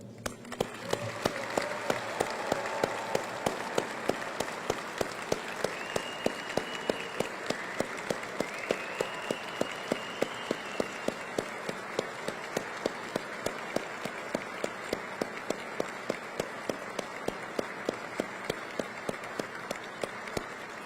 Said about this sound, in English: Please join me in a final round of applause for our newest group of flight test leaders.